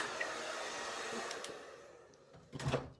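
A hair dryer blows on afro hair with a steady airy roar that eases slightly, then a brief clunk and rustle near the end.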